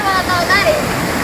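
Cold mountain stream water in Tirah Valley rushes steadily and close by as a broad, continuous wash, with a voice talking over it.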